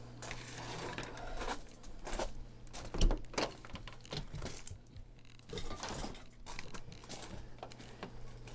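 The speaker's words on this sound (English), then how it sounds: "I'm finna get my cast iron skillet out" A cast iron skillet is handled in an outdoor kitchen set up in an old RV, with clanks and metallic knocks, one sharp bang near the middle, over a steady low hum.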